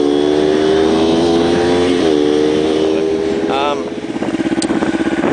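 A Kawasaki Ninja 250 motorcycle engine runs steadily at a close, loud idle with a rough pulsing tone, while a voice talks over it.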